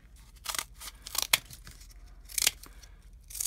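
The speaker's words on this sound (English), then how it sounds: "In fact, where's my scissors?" Scissors snip through paper in several quick, close cuts with crisp rustling between them in a quiet room.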